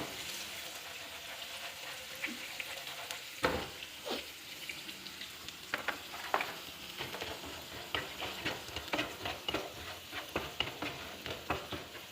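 Bori, sun-dried lentil dumplings brought from Bangladesh, frying in oil in a pan: a continuous close sizzle punctuated by repeated clicks and scrapes of a spatula stirring against the pan.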